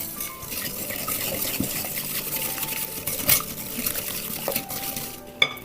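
Sunflower oil being whisked into a sugar batter in a bowl, a steady scraping and stirring with occasional clinks against the bowl, close and fairly quiet with no talking.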